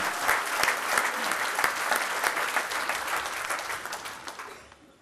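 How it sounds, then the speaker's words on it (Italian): Sustained audience applause at a political gathering in Campania, dense clapping from many hands that holds steady and then gradually fades toward the end, with no talking over it. "Penso che un applauso lo meriti."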